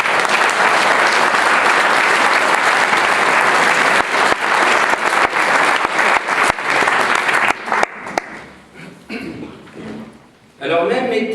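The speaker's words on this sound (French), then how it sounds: "je crois qu'on peut applaudir Daniel Godin" Audience at a French municipal public meeting applauding a council member, a loud sustained round of clapping that tapers off in the last few seconds into quieter room sound and a murmured voice.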